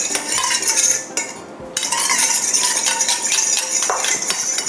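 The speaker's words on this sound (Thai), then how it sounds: "อันนี้พยายามคนให้ส่วนผสมละลายนิดนึงนะคะ" A spoon clinks and scrapes steadily around a bowl of sugar and water being stirred to dissolve for curry puff dough, close and continuous, with a brief pause partway through.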